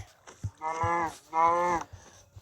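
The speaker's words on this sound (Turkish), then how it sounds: "İnek var. İnek." Two long, drawn-out cow moos in a video game, in a row, loud and close, with soft thumping footsteps around them.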